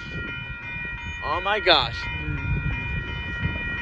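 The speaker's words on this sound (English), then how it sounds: "Here comes the Northbound Union Pacific copper car train" A northbound Union Pacific hopper car freight train rolls past a road crossing in Austin, Texas, with a steady rumble and squealing, drawn-out metallic tones, while a person briefly exclaims nearby.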